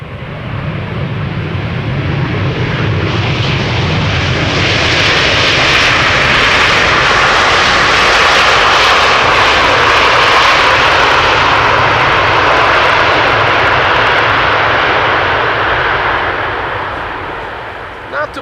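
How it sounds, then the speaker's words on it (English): A KLM Boeing 777-300 landing at Amsterdam Schiphol roars loudly, building into a sustained, broad jet rumble as thrust reversers are deployed in moderation, then slowly fading toward the end, with no talk over it. "Reversers are being used, but in moderation today. Not full thrust by the sound of it."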